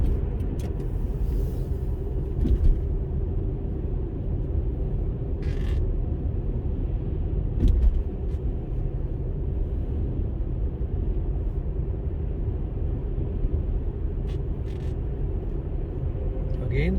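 Steady low road rumble and engine drone inside a car cruising on Highway 401 near Mississauga during a driving test, continuous and even throughout with a few faint clicks.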